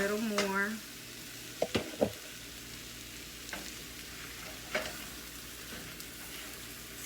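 Flour is stirred and cooked in a pan to make gravy for carne guisada: a soft steady sizzle with a few sharp scraping clacks of the utensil, and a brief voice at the start.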